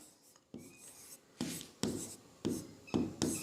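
Pen strokes scratching across paper as an equation is written out for a class 10 maths lesson, coming in about six short, close bursts separated by brief pauses.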